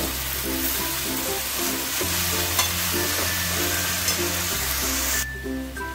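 Spinach and fenugreek leaves stir-fried over a high gas flame in a kadai, a constant loud sizzle with rhythmic stirring scrapes that quiets briefly at the end.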